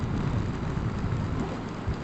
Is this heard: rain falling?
yes